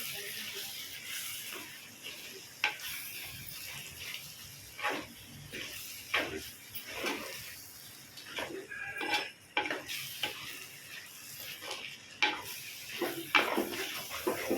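Dosakaya mutton curry, made with yellow cucumber and mutton, is stirred in a pan, with soft, irregular scrapes and metallic clinks of a spoon against the vessel over a quiet background.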